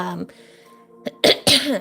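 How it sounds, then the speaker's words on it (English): A voice trails off, then a loud cough erupts into the mic in two close, harsh bursts. "I just coughed so loud into the into the mic"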